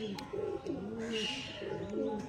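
Andhra pigeons, a male and female pair kept for sale, coo in repeated low rolling phrases close by, with faint background noise and a few light clicks.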